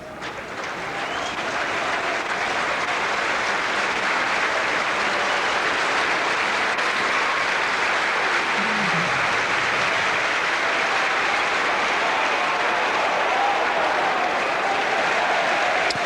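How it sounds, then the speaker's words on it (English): A large rugby league crowd applauds steadily for a Sheffield Eagles player leaving the field against Widnes, a dense, sustained wash of clapping and cheering that fills the whole stretch without letting up. "There's the crowd giving David Maiko a tremendous reception as he comes off the field"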